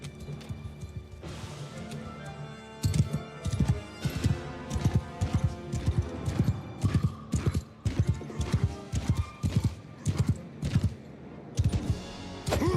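Horses clip-clop in a fantasy battle strategy game, a steady run of loud hoof strikes with some whinnying and clashing mixed in, no voices over it.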